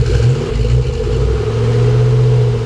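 A stock Chevy Trailblazer SS engine and factory exhaust give a loud, steady low rumble with a slight rise in revs, heard alone up close.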